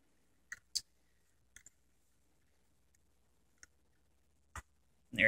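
A part on a diecast Caterpillar 420F2 or 432F2 backhoe loader model folds into place, giving a handful of small, sparse plastic-and-metal clicks spread over several seconds in an otherwise quiet room, close up.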